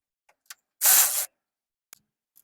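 A ratchet wrench removes 10 mm bolts from the radiator fan bracket of a 1994–2001 Acura Integra, giving one short, close, rasping burst of about half a second, with a few faint clicks before and after.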